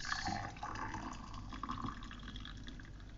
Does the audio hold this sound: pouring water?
yes